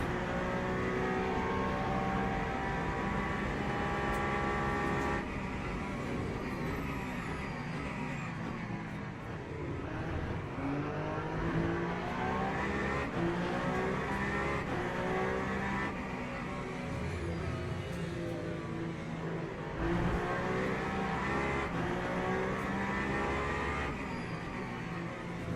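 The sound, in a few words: GT3 race car engines from a racing video game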